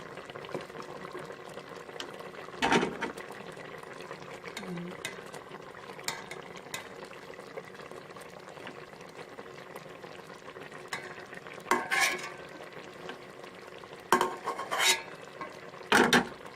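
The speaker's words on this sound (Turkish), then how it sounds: "Şöyle karıştıralım limonun da ağzın içine." Lemon juice being stirred into peach marmalade in a pot, a faint soft simmering bubble throughout with a few louder clinking spoon-against-pot scrapes and knocks near the start and toward the end.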